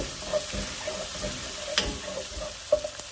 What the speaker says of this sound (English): I'm going to just saute the garlic and everything quickly.